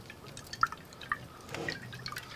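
Virgin olive oil drizzled over cherry tomatoes on a tray gives a few faint, close drips and soft liquid ticks, scattered irregularly against a quiet background.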